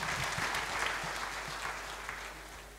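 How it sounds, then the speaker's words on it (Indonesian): A church congregation at a Sunday worship service clapping, a sustained, fairly soft round of applause heard from some distance in a large room. "tepuk tangan saudara"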